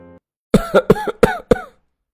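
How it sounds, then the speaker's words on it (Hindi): A series of five quick, forceful coughs in a row, close and loud, with no other sound around them. "इन्हें खांसी आ रही है"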